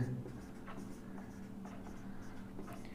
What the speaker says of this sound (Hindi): तो हम यहाँ लगा लेंगे पाइथागोरस प्रमेय, लिखेंगे पाइथागोरस प्रमेय से।